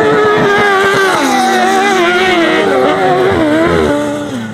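Grasstrack racing motorcycles scream past close by, engines revving high and shifting pitch as they power around the track, loud and continuous before fading slightly.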